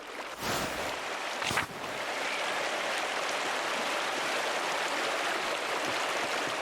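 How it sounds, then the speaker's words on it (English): Steady rushing roar of a waterfall in the video game Pentiment, loud and continuous with a couple of brief splashy bursts near the start, no voices over it. "Waterfall."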